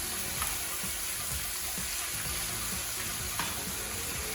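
Chicken thighs sear and brown in a hot pan for a Dominican pollo guisado, giving a steady, close sizzle of frying with a few soft clinks and stirring sounds and no talking.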